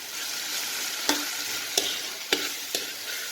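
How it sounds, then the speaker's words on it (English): Onions sizzle steadily in a hot pan while cooking sardine with potato, with a few sharp clicks of a utensil stirring and scraping, close up and without speech. "let it fry for 2 minutes"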